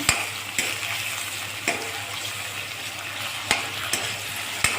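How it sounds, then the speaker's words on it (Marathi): Tomatoes fry in hot oil for a sprouted moong misal masala, giving a steady close sizzle broken by several sharp clicks of a spoon stirring against the pan, with no voices. "टमाटा सुद्धा तेल सुटेपर्यंत भाजून घ्या"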